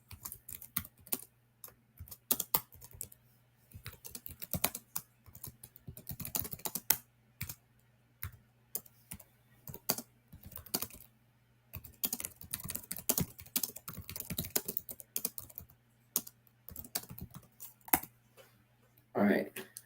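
Computer keyboard typing as a trader enters stock tickers during a live market session: irregular bursts of crisp, close key clicks over a low steady hum, with faint talk in places.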